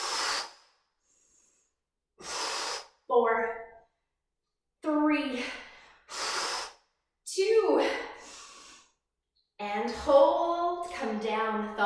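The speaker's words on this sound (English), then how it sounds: "You want to hear the exhale leaving your mouth" Steady breaths pushed out through the mouth during a breathing and stretching exercise, several audible exhale bursts spaced a few seconds apart, close and clear, with a voice counting aloud in between.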